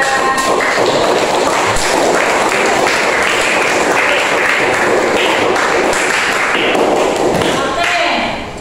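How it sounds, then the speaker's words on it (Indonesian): A group of teachers claps steadily and loudly for several seconds in a classroom lesson, the applause dense and continuous before tapering slightly at the end. "Tepuk tangan untuk teman kita."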